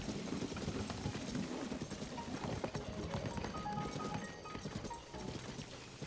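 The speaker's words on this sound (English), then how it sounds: "If I could control the dang horse." Horse hooves clip-clopping in the video game Zelda: Tears of the Kingdom, a steady rapid patter of hoofbeats over a dense continuous game soundscape, moderately loud throughout.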